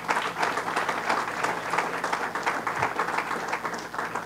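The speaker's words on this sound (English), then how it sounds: "they deserve a round of applause." A college-hall crowd at a governor's announcement breaks into steady, rippling applause that holds at an even level for a few seconds.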